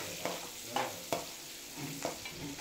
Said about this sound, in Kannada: ನೋಡಿ ಫ್ರೆಂಡ್ಸ್, ಈರುಳ್ಳಿ ಚೆನ್ನಾಗಿ ಫ್ರೈ ಆಗ್ತಾ ಇದೆ.